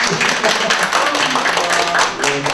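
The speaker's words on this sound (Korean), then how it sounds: "우리 천지TV에서 단독 특종으로 오신 우리 기자님 큰 박수 한번 보내주시죠" Applause for a reporter from an audience at a Korean youth activists' press event announcing a joint statement on Myanmar: steady, dense clapping throughout, with voices murmuring underneath.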